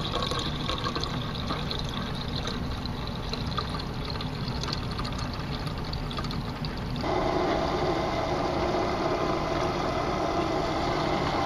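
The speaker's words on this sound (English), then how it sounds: "Poured a whole gallon of water in there" A gallon of water poured steadily into an HVAC condensate line, a continuous close splashing, gurgling flow that shifts and brightens partway through, with no talk.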